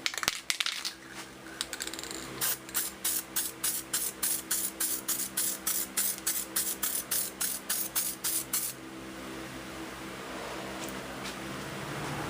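Spray gun laying a second coat of automotive paint during a blending job, heard as a series of about twenty short, regular hissing bursts close to the mic, then a steady softer hiss that continues to the end.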